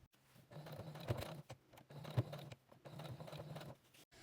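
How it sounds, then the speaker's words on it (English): A domestic sewing machine runs a top stitch around fabric for a tissue box cover in quiet, close bursts of rapid mechanical whirring, each about a second long, separated by short pauses. "you could sew a top stitch around there. I'm going to do that now."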